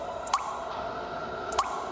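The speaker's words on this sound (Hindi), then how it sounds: "पानी टपकने की आवाज बढ़ने लगी।" Water drips in a bathroom from a tap, two sharp, isolated plinks about a second apart over a steady background hum.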